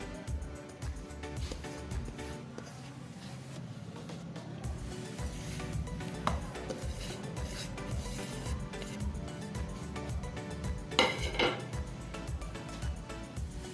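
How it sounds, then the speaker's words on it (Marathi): Hands rub and press flour mixed with garlic, coriander, red chilli powder, turmeric, cumin and salt in a bowl for Vidarbha-style shengule, giving soft repeated scraping and rustling with occasional light clinks, close and fairly quiet. "आता याला हाताने आपण छान असं पिठाला सर्व काही चोळून घेऊयात"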